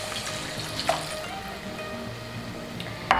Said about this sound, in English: add some of that along with some unsalted vegetable broth